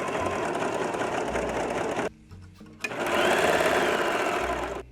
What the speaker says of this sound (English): we have to serge all around the edge